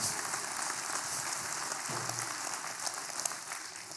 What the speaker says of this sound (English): that's gotten applause in all 3 services so far